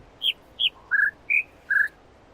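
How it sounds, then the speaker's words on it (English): Bird song from an audio puzzle in the video game The Witness: five clear whistled chirps in an uneven rhythm, loud and close, alone against a quiet background. "it's very likely that they will ignore the correct bird song"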